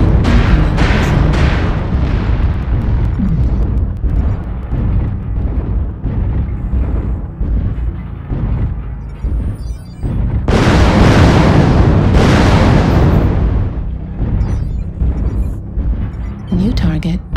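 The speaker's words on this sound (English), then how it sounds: "Warning, incoming missile." Repeated heavy booms of incoming missile explosions in the mech combat game Mechwarrior Online, with a Battlemaster BLR-1S 'mech, rumbling loud and dense over continuous battle noise, with a big burst around the middle.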